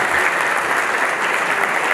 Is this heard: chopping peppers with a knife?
no